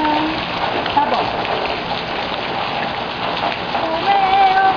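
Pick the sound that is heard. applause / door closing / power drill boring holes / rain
rain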